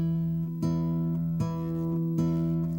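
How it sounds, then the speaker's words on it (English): Guitar notes ring out in a steady pattern, low bass notes plucked together with a bright open high string, repeating every second or so. "Every time I play a bass note, I pluck the open high string."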